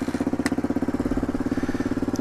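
A Suzuki DR250 motorcycle with a Dominator R exhaust and no baffle idles loud and close, a rapid, even thumping pulse.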